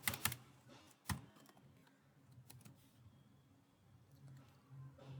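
Code is typed on a computer keyboard in sparse, uneven bursts of close, crisp key clicks. A few louder taps stand out against a quiet room between them.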